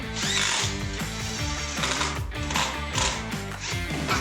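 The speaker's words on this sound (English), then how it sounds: "we're gonna drill some holes really quick" A power drill bores holes with screws nearby in a hidden room under a house, giving close, loud, whirring and ratcheting bursts that rise and fall in quick succession.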